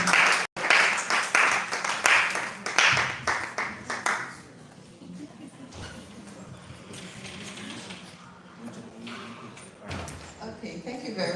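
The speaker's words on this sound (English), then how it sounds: "please help me welcome with a round of applause the team" An audience at a women's mentorship seminar claps, loud dense applause for about four seconds that then thins to scattered clapping and room noise, with voices murmuring and talking underneath.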